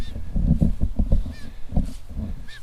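Harsh, raspy calls from baby birds repeat in quick bursts, loud and close, with a few higher squeaky cries mixed in.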